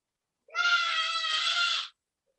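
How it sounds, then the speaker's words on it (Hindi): A child lets out one loud, sustained high-pitched shout lasting over a second in the background of an online class, then silence. "जितने भी आसपास बच्चे जो है वो चिल्ला रहे हैं"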